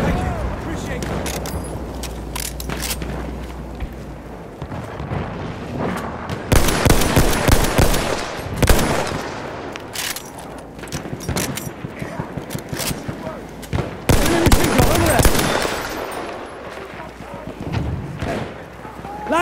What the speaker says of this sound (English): Enemy machine gun, sight it!